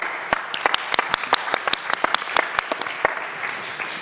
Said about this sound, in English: So give her a rousing round of applause.